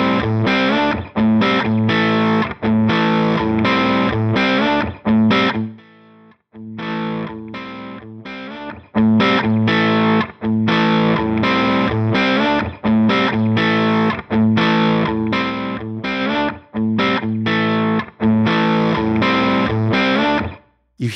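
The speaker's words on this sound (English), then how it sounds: "I'm going to play this little loop, and I'm going to adjust the master volume, and listen to how the characteristics of the distortion and the behavior of the amp changes" A distorted electric guitar loop played through an amp model, its saturation shifting as the master volume changes, loud and continuous with choppy rhythmic strums and brief pauses.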